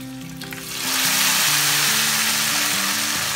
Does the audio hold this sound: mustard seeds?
yes